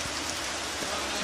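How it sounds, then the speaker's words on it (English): Steady rain pours onto tomato plants and garden foliage in rural Jamaica, a soft, even hiss that stays constant throughout, faint and fairly distant, with no clear voice over it. "Rain is falling again"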